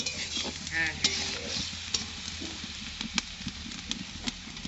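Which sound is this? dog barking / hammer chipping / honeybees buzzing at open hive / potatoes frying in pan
potatoes frying in pan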